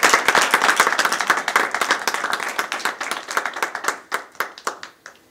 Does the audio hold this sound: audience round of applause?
yes